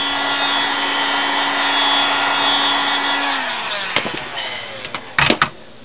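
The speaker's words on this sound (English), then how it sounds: "you want to blast these with your heat gun, and you want to move it around" Heat gun blowing hot air onto wet wipe flower petals, a loud steady close whoosh with a humming tone that winds down, followed by a few sharp handling knocks and clicks.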